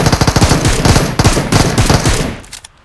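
Rapid automatic fire from an M762 rifle in PUBG Mobile, a loud close burst of evenly spaced shots lasting over two seconds before cutting off, with no talk.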